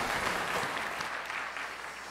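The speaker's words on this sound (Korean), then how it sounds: "찬양의 박수로 하나님께 드리겠습니다" Soft, distant applause from a church worship service congregation, a steady patter of clapping at low volume.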